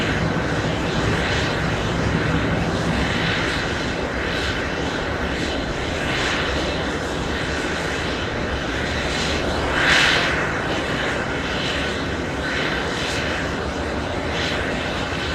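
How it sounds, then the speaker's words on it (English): A JetBlue jet airliner departing JFK airport for Los Angeles gives a loud, steady engine roar with broad rumble and hiss that holds throughout and swells slightly midway, heard from a distance without talk. "the departure JetBlue 623 heading to Los Angeles"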